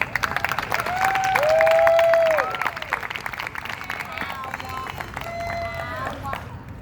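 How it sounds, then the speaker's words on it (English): Applause and cheering from a crowd, with a loud whistle or cheer rising over the clapping, which carries on steadily for several seconds. "Please give her a big round of applause."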